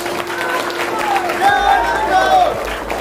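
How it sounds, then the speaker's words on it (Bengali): Workshop attendees at a product presentation in Mirik give a round of applause, moderately loud clapping mixed with crowd murmur and a tonal voice-like line running beneath. "জোরদার হাততালি ওর জন্য একটা।"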